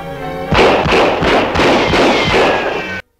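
In a 1941 Superman film serial, a crook fires into a box: a quick string of about seven sharp, loud gunshots in steady rhythm, each with a short thud, ending in an abrupt cutoff.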